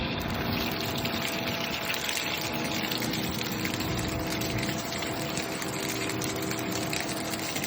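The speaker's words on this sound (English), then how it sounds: "But the pump should work. It's gonna spray water." A water pump with no hose attached runs steadily, spraying and gushing water in a constant, loud rush of noise that holds the same level throughout, with no voices.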